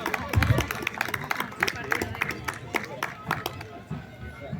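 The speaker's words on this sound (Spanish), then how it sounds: "Fuertes aplausos, por favor," Applause at an anniversary celebration honoring the Virgin of El Quinche, a crowd clapping in scattered, irregular bursts, fairly close, with chatter and a voice over a loudspeaker mixed in.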